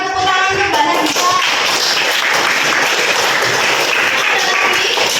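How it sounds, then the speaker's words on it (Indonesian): A class of students claps together in a classroom, loud and close, with dense tapping hand claps over faint voices and a few tonal sounds at the start. "tepuk tangan untuk Mbak Nadifa."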